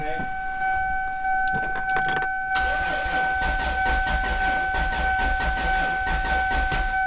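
Toyota Supra with no fuel in its lines being cranked, a steady high electrical whine with rapid starter churning and low rumbling turnover that does not catch, close by.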